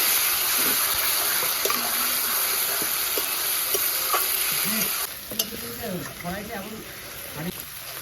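Onion and tomato frying with ginger, chili and cumin pastes as the chicken masala is prepared: loud sizzling and stirring scrapes that drop in level midway, with a voice talking over the later part.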